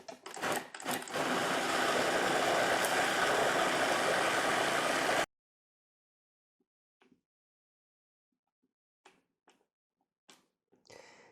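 A food processor whirs loud and steady for about five seconds while blending guacamole of avocado, onion, garlic, cilantro and lemon juice, then cuts off, leaving a few faint knocks and scrapes.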